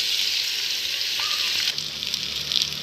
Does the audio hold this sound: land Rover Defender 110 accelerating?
no